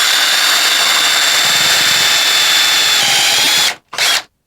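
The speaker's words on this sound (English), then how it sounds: "that's basically how you drill a pocket" A power drill boring a pocket hole into wood runs loud and steady for nearly four seconds, whining at constant speed, then cuts off and gives one short final burst before stopping.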